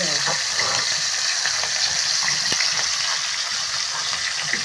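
Chicken leg pieces fry in hot oil in a home kitchen while chicken kosha is being cooked. A continuous, fairly loud sizzling hiss holds steady throughout, with faint background sounds.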